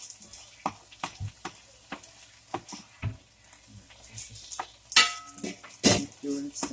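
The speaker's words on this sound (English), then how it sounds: "we're just gonna keep stirring" Garlic and Italian sausage sizzle softly in a pan while a utensil scrapes and clinks against it in irregular stirring strokes, with a few louder knocks near the end.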